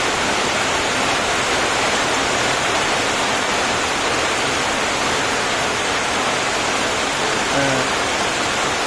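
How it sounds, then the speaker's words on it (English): Heavy rain drums steadily on a tin roof, a loud, dense, unbroken roar at a forest Buddhist monastery in Sankhuwasabha, Nepal. "It's a downpour here."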